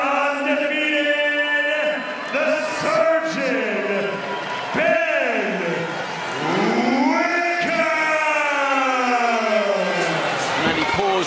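A boxing arena crowd roars and yells in sustained, swelling waves after a knockout, with a commentator's voice running over the noise.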